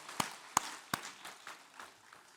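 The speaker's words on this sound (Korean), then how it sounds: "영광의 박수를 하나님께 드리겠습니다" A church congregation claps in praise during a Sunday service, with a few sharp hand claps up front followed by scattered, softer clapping that quickly fades, heard without talking.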